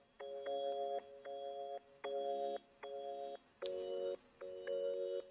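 Organ chords play in a steady rhythmic pattern of sustained stabs with a delay effect, each held briefly then cut, repeating evenly and fairly quiet and alone.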